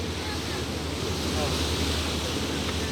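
Ocean surf rolls and crashes near a harbour-side swimming shed at Sai Wan Ho, Hong Kong, a steady loud wash of waves mixed with wind buffeting the microphone throughout.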